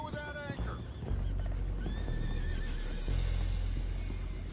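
Horses whinny and neigh in the video game Red Dead Redemption 2 over a steady rumbling backdrop, with hooves and a busy low-end din beneath.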